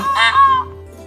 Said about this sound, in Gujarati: પિહન એટલે ઢેલ મોર અને ઢેલ એ ભારતના ખૂબ જ સુંદર પક્ષીઓ છે